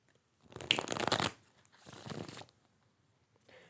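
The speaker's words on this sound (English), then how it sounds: "Last shuffle." Tarot cards shuffled by hand in two broad bursts of riffling and rustling, the first longer and louder, the second softer, with a brief faint flutter at the end and no talk.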